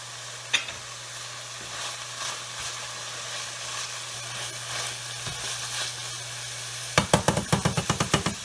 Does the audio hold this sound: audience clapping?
no